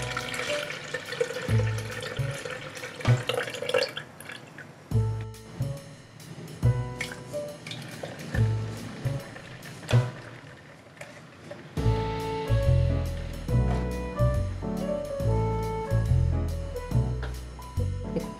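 Jaggery and mint sharbat is poured and strained, giving intermittent splashing, trickling bursts of liquid that come and go in uneven waves over soft background music.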